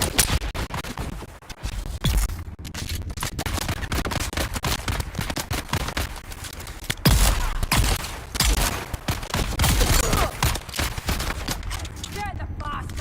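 A sniper fires in the Dune video game on Arrakis, with repeated sharp shots and scraping impacts scattered through a busy stretch of combat noise, while people talk over it.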